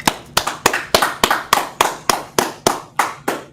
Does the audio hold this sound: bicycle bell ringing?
no